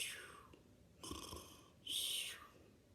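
A voice imitates an old man snoring in bed: three soft, breathy snore sounds in a row, each rising into a hissy rasp, quiet and close.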